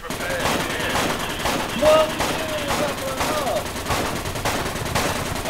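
Repeated bursts of rifle and automatic gunfire crackle through a tense firefight in the military shooter game Project Reality for Battlefield 2, with players talking over the shots.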